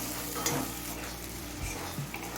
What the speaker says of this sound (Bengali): এবার মিডিয়াম ফ্লেমে আরও কিছুক্ষণ ভেজে নেব